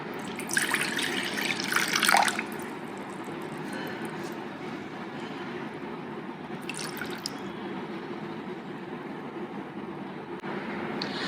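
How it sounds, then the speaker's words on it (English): Water pours into a mixing bowl during vegan cake baking, a splashing, trickling gush for about two seconds before a steady, quieter kitchen background continues. "In a mixing bowl, add water and vinegar."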